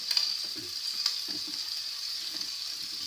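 Onions caramelize gently in a pan for Savoy diots, a quiet, continuous sizzle with a few faint stirring clicks, close up and without speech.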